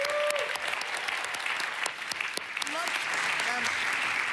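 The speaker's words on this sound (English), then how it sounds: "Steffi Czerny, a big round of applause." Applause fills a large conference hall at a DLD anniversary celebration, steady and loud throughout, with a few brief tonal sweeps and a voice faintly underneath near the end.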